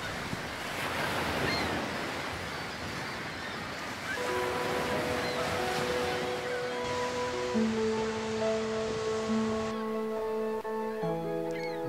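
Ocean surf rushes and washes steadily over a rocky tide pool shore, with gentle music fading in partway through and holding sustained tones over the waves.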